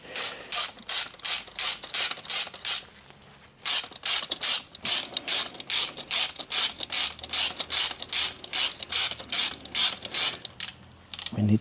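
Rapid ratcheting clicks from an inverted fork spanner tool turning the top nut on a Harley-Davidson Softail Sport Glide motorcycle fork, loud and close in steady bursts with a short pause partway through and no talk.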